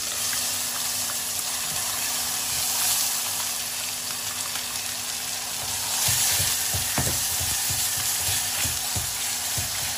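A masala paste of fried onion, tomato, ginger-garlic, cashew and green chilli sizzles steadily in hot oil for fish gravy, a constant loud hiss with occasional stirring scrapes toward the end.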